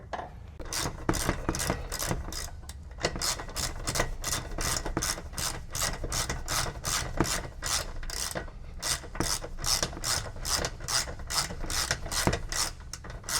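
Roof rack bracket bolts on a CFMoto U10 Pro side-by-side are tightened with a ratchet, giving a rapid, steady run of close, crisp clicks that continues without pause for over thirteen seconds.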